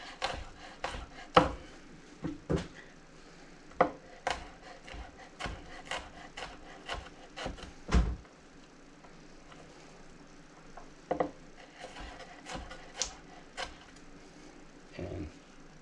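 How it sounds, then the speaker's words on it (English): A knife dicing an onion on a wooden board gives quiet, irregular taps and chops, with clusters of quick cuts separated by pauses. "there is our diced onion"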